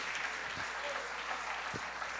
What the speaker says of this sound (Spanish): Dele ese aplauso al Rey en esta linda y preciosa noche.